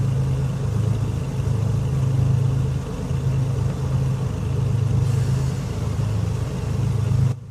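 A steady, droning DC3 (ZK-DAK) aircraft engine in the flight simulator Prepar3D v4.4, a continuous low hum that holds even and unbroken throughout.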